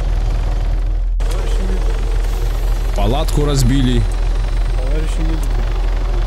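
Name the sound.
helicopter in the video game Arma 3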